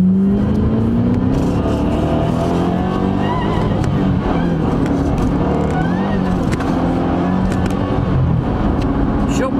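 A 2008 Ford Mustang Shelby GT500 Super Snake engine pulls hard under acceleration, a loud continuous roar rising in pitch from inside the car, with a voice talking over it throughout.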